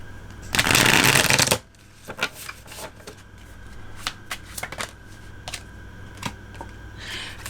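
Tarot cards are shuffled in one dense, loud riffle lasting about a second, then softer scattered taps and card slides follow at close range.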